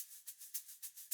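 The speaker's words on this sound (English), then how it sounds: "Next up, I think this is just a shaker or something." Shaker in an electronic music track, a faint, bright hissing shuffle repeating in a steady quick rhythm of soft pulses, alone with no other instruments or voice.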